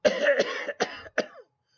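A person coughing in a short raspy fit, a drawn-out hack followed by two quick coughs, close and fairly loud.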